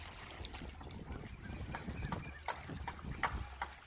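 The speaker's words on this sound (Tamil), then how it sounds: "ஸோ இதுதான் எங்களோட துறைமுகம்." At a fishing boat harbour, wind buffets the microphone while boats knock and creak with scattered light clatter. The sounds are low and constant, with no clear voice heard.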